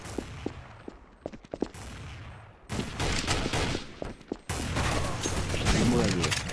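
Gunfire in Counter-Strike: Source, with sharp single shots and short bursts cracking over a shifting din of in-game action, loud and close, while voice lines play intermittently.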